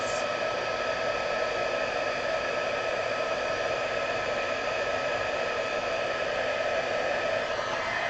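A heat embossing tool blows a steady, loud, even whoosh of hot air over embossing powder on a card, continuous throughout with no talk.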